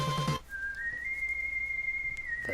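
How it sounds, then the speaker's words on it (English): Proto Man's signature whistle from the video game Mega Man 7 plays as a clear, sustained melodic tone that rises and holds, following a brief burst of game music, over a quiet background hum. "that familiar whistle."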